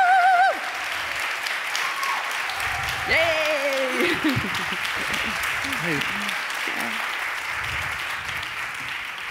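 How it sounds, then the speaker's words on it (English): Warm applause from an audience at an urban culture talk event, steady clapping filling the room throughout while a voice cheers and people speak over it. "Give them a warm applause."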